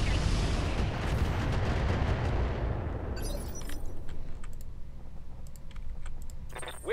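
Heavy mech weapon fire in the BattleTech Roguetech mod: a loud sustained roaring blast that trails off into a long rumbling decay, with scattered clicks and small impacts following.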